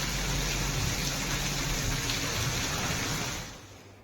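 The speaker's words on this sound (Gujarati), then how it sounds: "કપરાડાના અંતરિયાળ વિસ્તારમાં ધોધમાર વરસાદ પડ્યો" Heavy monsoon rain pours down in the rural interior of Kaprada, Valsad district, Gujarat, a dense, loud, steady roar of water that fades slightly at the very end, with no voices.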